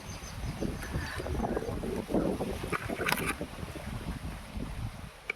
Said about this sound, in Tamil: காற்று வேறு இங்கே பயங்கரமாக அடிக்கிறதுனால